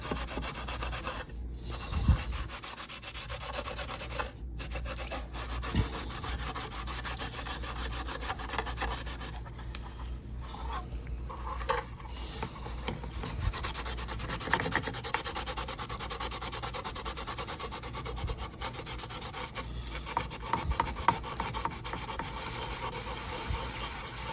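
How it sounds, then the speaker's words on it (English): A brush scrubs paint stripper over silver paint on the body of an A-Team style van, giving a continuous gritty rubbing and scraping at close range, with short pauses between strokes. "scrub it a little bit more, and then rinse it off and see what we got"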